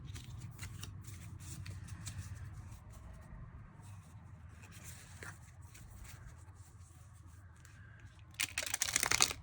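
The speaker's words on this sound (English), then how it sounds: "Wow, that was a terrible shuffle." Tarot and oracle cards being shuffled by hand, quiet soft rustling and riffling close by for most of the stretch, ending in a louder, sharper burst of card riffling.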